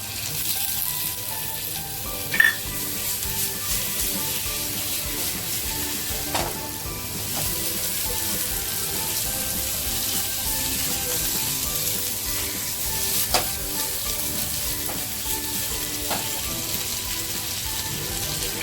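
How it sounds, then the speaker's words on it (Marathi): Cut potatoes fry in a pan with chili flakes, black pepper and browned onion for a dhaba-style potato dish, giving a loud, continuous close sizzle with occasional clinks and stirring scrapes and no voices. "आता जे बटाटे घेतले होते ना कापून मी ते टाकते"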